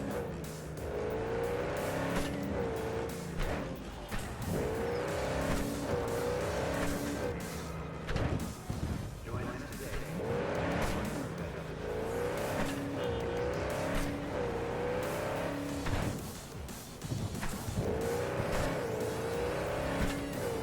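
A car driving in Cyberpunk 2077, its engine droning continuously and loudly with rising and falling revs in repeated gear cycles, plus tire noise and occasional thumps.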